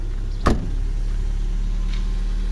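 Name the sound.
car engine running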